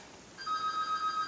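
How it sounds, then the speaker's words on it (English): A phone ringtone starts after a short quiet moment, a bright electronic tone with quick repeating chirps that carries on steadily and clearly. "Freaking phone's ringing. I don't want to answer it."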